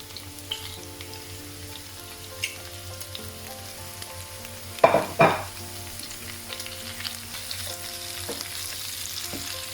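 Sliced peppers, onions and chillies frying in hot oil for a pork starter, a steady close sizzle throughout with a louder burst partway through as the pieces hit the pan, no talking.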